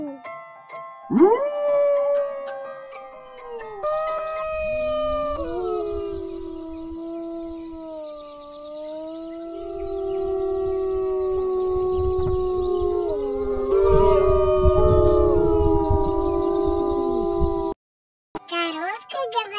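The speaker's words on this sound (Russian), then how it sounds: "Волк говорит" A wolf howls in a children's animal-sounds piece, a long tonal howl rising then sliding and wavering, with a voice and cartoonish sounds around it, ending abruptly.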